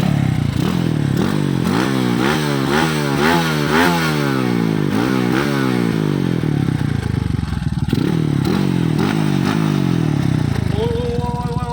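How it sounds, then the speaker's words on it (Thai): Honda Wave 110i motorcycle with a 125 exhaust pipe and remapped box, engine revving hard in repeated rising bursts, loud and close with a buzzy throttle note throughout. "ฟังเสียงเครื่อง"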